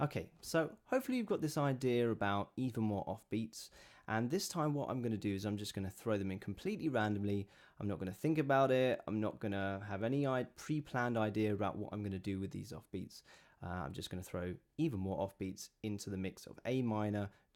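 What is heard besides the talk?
No everyday noises stand out.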